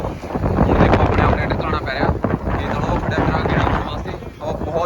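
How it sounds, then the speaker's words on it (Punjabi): Strong wind in a village field at harvest time buffets the microphone in loud, rumbling gusts throughout, with indistinct voices partly buried beneath the roar. "ਹਵਾ ਚੱਲ ਰਹੀ ਹੈ"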